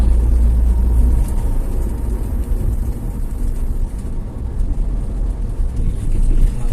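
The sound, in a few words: Toyota Avanza 2011 engine driving in fifth gear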